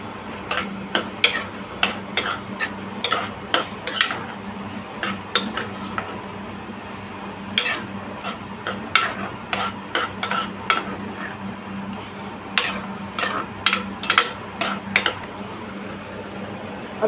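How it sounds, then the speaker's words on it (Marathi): Capsicum being sautéed with stirring in a pressure cooker pot while making pav bhaji: a long run of sharp metallic spoon scrapes and clicks against the pot in irregular bursts over a low steady hum, with no talk. "त्यानंतर ही सिमला मिरचीसुद्धा आपण यात थोडीशी भाजून घेऊया."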